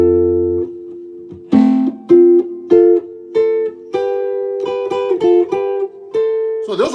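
Arpeggios played on a keyboard: a series of clear, evenly spaced broken-chord notes rising and falling, moderately loud and close, with short pauses between groups and no talking.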